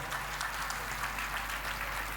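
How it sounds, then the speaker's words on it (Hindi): An audience at a Jain worship training camp applauds for Suresh bhaiya, a steady, fairly faint patter of clapping over a low hum, with no voices. "तो भैया जी को ताली बजाना एक बार जोर से।"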